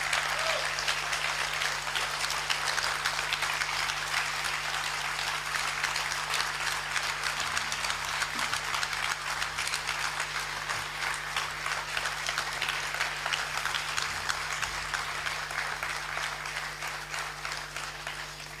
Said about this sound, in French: Et je vous demande de l'applaudir, de l'encourager